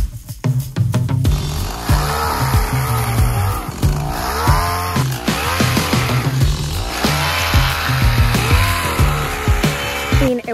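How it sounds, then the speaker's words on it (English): A chainsaw in poor running condition revs and bogs repeatedly at close range, its rough engine rising and falling in pitch as it chews through a log, stripping bark. "My chainsaw does not sound overly healthy"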